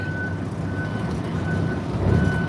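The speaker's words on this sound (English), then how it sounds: "Beeping the horn, let people know I'm backing up." A garbage truck's reversing beeper sounds steady, evenly spaced high beeps over a loud rumbling diesel engine, close by.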